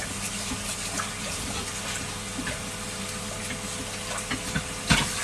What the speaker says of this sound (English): quick wash of the bowl.